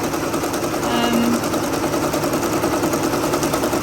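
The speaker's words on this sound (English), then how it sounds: "I would say it's a hobbyist embroidery machine with a single needle" A single-needle hobbyist embroidery machine stitching, a steady fast mechanical rattle running the whole time at a constant level. A person talks over the machine.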